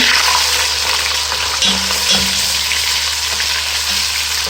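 Steady, close sizzling of ground onions frying in hot oil, a continuous crackling hiss with a few soft stirring knocks, no talking.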